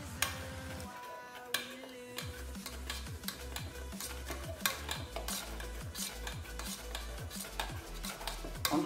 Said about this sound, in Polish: Teraz ustawiamy sobie mniejszy płomień i mieszamy